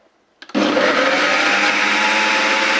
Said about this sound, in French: Moi, je vais venir l'allumer et je vais venir choisir la fonction blend et je vais mettre sur medium